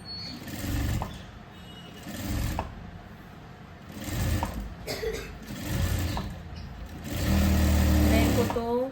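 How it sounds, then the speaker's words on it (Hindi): A sewing machine stitching the princess-cut seam of a padded blouse runs in several short whirring bursts with pauses between, the last one longest, while someone talks over and between the runs. "तो ये इधर की साइड का प्रिंसेस कट वाला सिलाई कर रही हूँ मैं।"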